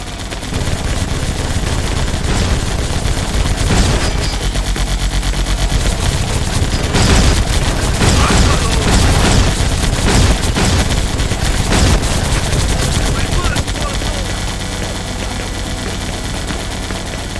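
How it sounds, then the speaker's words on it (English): Enemy machine gun fire in the Vietnam-era air combat game Air Conflicts Vietnam: a loud, continuous fusillade of rapid bursts layered with booms and engine drone, sustained throughout with no talking. "Machine gun blow! Enemy fire!"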